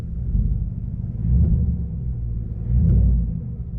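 A V8 engine with a newly installed Pulsar LT module is being raised to higher rpm in steady surges, then allowed to settle back into a low, rumbling idle. The sound is close and loud, and no one speaks.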